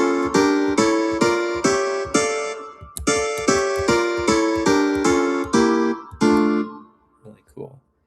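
Chords of D harmonic minor played one after another in an even, bright, close rhythm, about a dozen strummed or struck chords, followed by a few faint trailing notes.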